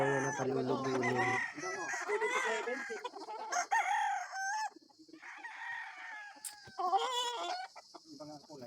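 A young rooster stag kept as a gamecock crows repeatedly at close range, the drawn-out calls broken by short clucks and other fowl noises in a quiet yard.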